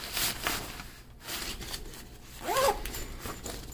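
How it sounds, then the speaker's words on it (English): A large zipper on a Tarion Pro XP camera backpack is pulled in several quick rasping strokes, close and fairly loud, with short pauses between pulls. "Got a large zipper here."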